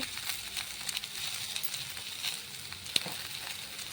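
Ginger paste and a little ground cumin fry in hot oil in a pan for a light fish curry, giving a steady close sizzle with faint stirring scrapes and a brief sharp tick near the end.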